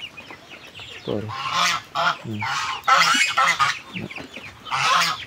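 Geese honk nearby in repeated bursts, several loud calls overlapping with short gaps between them.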